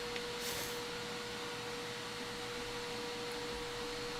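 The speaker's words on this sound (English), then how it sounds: "Is that vacuum too loud?" A vacuum cleaner runs downstairs as a steady, continuous whine with a fixed tone, muffled and moderately quiet, holding evenly throughout with no talk.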